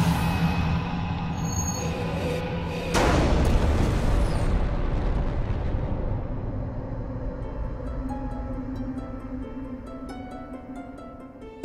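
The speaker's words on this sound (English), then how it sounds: "nothing is more powerful than the colossal explosion that created it all," A cinematic explosion effect depicting the Big Bang, a sudden massive boom about three seconds in swelling over a sustained rumbling, roaring bed that slowly decays, loud and continuous.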